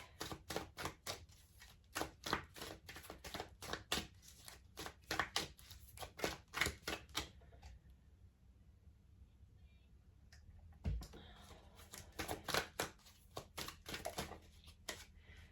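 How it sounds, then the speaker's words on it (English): A deck of tarot cards is shuffled by hand in quiet, rapid bursts of papery flicks and taps. The bursts run for several seconds, pause briefly, then resume. "So let me shuffle these"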